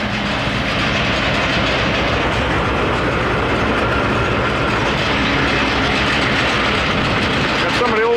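Old farm tractor hooking up to pull a sled at a tractor pull event, a steady loud rumbling engine drone with rattling, continuous throughout.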